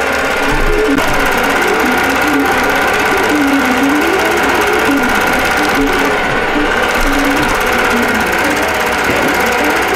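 A quilting machine stitches around a star motif on a wholecloth quilt, running with a loud, steady, fast mechanical hum and rattle that holds unbroken throughout.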